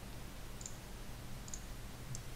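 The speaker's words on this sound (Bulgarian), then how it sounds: "Отделно можем чрез Ctrl и клик на мишката" A computer mouse button is clicked with Ctrl held down to add cursors in Sublime Text, giving three faint, sharp, separate clicks spaced under a second apart over quiet room tone.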